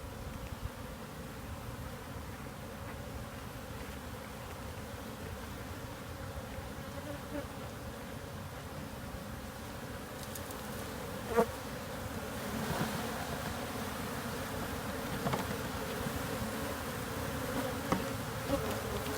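Honey bees buzz in a dense, continuous drone during a hive removal as comb is shaken into a box, close and steady throughout, with a few louder thumps and bumps partway through.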